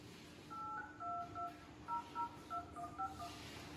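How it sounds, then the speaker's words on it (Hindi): A series of short electronic telephone keypad tones, about a dozen in quick uneven succession, soft and clean against a quiet background. "मैं विनय कुमार सिंह जी को फोन मिलाता हूं।"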